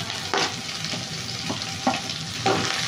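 Garlic, curry leaves and coriander fry in a pan with a steady, close sizzle, broken by a few sharp stirring scrapes of a spoon against the metal.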